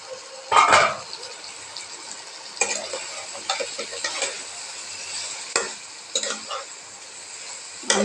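Goat meat is stir-fried kosha-style in a pan, with a soft sizzle under several distinct bursts of spatula scraping and stirring, some louder, spaced irregularly.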